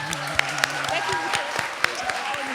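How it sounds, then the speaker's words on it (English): An audience gives a final round of applause at the end of a storytelling event, mixed clapping with a few sharp louder claps, while voices and a tonal hum carry underneath. "And last round of applause."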